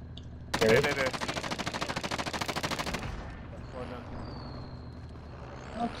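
Rapid automatic bursts from an LC-10 submachine gun in Call of Duty: Modern Warfare, a loud sustained stream of fire for about two and a half seconds, then quieter game ambience with a faint rising whine.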